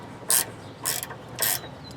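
Three short bursts of ratchet clicking tighten a stabilizer link bolt on a Chrysler 200, each burst separated by a brief pause, close and clear with no talk.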